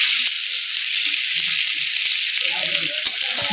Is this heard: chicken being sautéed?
yes